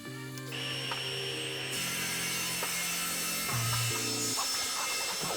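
Trimming the sides of a glued-up wooden cutting board with a power tool, heard as a steady, loud, continuous machine whine with shifting pitch and rattling mechanical overtones throughout, no talk.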